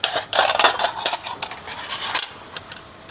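Metal spoons and utensils clink and rattle as they are handled and set down while packing for a van trip, with quick bursts of jangling followed by a few sparser clicks.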